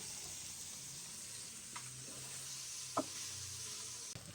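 Onions and green chilies frying in a pan, a steady close sizzle with a couple of brief clinks and scrapes of a spoon stirring.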